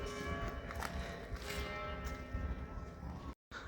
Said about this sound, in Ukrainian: Ви чуєте дзвін колокола або дзвона